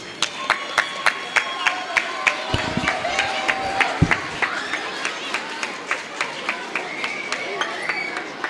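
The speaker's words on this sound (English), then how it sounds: "Let's go ahead and encourage them, guys, with some claps as they form to the front." Students at a Lawrenceville, Georgia school clap together as a group, a steady rhythmic beat of hand claps under crowd noise and a brief voice.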